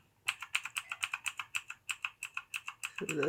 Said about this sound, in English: It's not as clicky as my mechanical keyboard here.